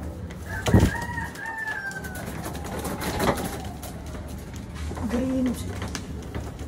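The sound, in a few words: pigeons and birds cooing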